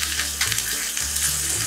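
Tadka of mustard seeds, cumin, a pinch of hing, whole dried red chillies and curry leaves frying in hot oil for coconut chutney, a steady close crackling sizzle with no voices.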